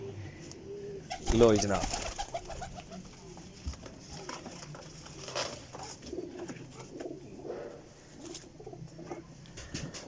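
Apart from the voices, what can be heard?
pigeons cooing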